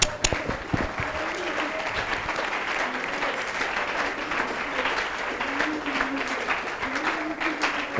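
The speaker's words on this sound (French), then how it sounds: "Can we clap for Jesus?" A church congregation claps and cheers for Jesus during a Sunday worship service, a dense steady wave of applause lasting several seconds with voices and a sung tone mixed in underneath.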